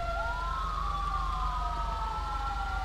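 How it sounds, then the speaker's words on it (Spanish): A video-game ambulance siren in GTA V LSPDFR wails in long rising and falling sweeps as the vehicle pulls away, steady and loud over a low engine-like rumble. "la ambulancia se va"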